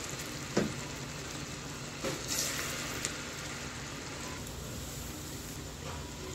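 Moong dal bhaji batter dropped by hand into hot oil gives a continuous soft frying hiss, with a few faint taps and bubbling pops over the steady crackle.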